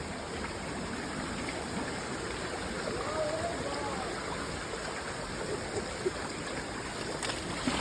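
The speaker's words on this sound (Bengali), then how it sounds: "বিরাট স্রোত" A strong stream current of water rushes steadily in a village during rain, a dense, unbroken wash of flowing noise at constant loudness throughout.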